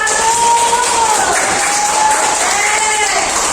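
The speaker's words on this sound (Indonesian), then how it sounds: "Tepuk tangan untuk nomor 1." Classroom applause for a student group after a presentation on making mushroom juice, steady broadband clapping filling the whole span with a voice talking over it.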